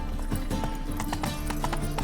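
Roach the horse galloping in The Witcher 3, steady rapid clip-clop hoofbeats close up over a dense game soundscape, with no one speaking.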